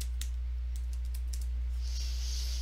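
Quick keystrokes tapped on a computer keyboard to enter a site name into a browser, a short run of crisp clicks close by over a steady low hum, with no talking.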